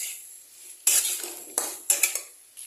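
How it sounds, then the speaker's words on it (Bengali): Fried potato and green banana pieces stirred with spices in a metal pan, heard as several close, sharp spatula scrapes and clinks against the pan with quiet gaps between. "আলু আর কাঁচকলা ভাজাটা দিয়ে এখন আমি এটাকে ভালো করে মশলার সাথে মাখিয়ে আরও 1-2 মিনিট এটাকে এইভাবে কষাবো"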